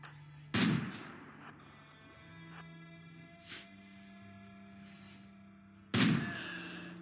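Gunfire in the modded video game RimWorld: three sharp shots spaced a few seconds apart, each punchy and close, over a quiet ambient game background.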